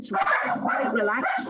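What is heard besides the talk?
dogs barking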